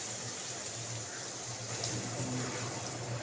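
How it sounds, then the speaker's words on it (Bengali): Water pours steadily into a pan of eggs being cooked, a continuous close gushing splash that holds even for a few seconds, with no talking. "পরিমাণ মতো জল দেবো"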